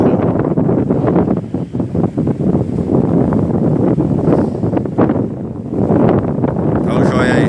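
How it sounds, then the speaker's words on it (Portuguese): Cold wind gusting steadily and loudly across the microphone at a campsite beside a tent, with rough buffeting rumble throughout the whole stretch. "quando começa a bater o vento gelado, fica esse frio"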